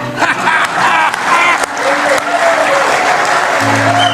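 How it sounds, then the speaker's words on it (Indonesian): A crowd claps steadily throughout, a dense patter of applause with a low tonal hum entering near the end. "Tepuk tangannya tidak ikhlas."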